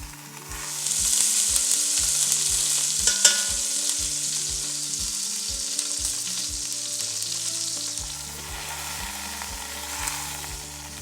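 An eye of the round roast sears and browns in a hot pan, a steady loud sizzle that swells and eases while a low musical bed plays underneath throughout.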